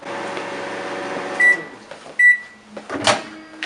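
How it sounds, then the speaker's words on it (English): A microwave oven heating a mug of coffee hums steadily, then its door clunks and beeps sound, followed by more clicks and a handling knock close by. "Just microwave it"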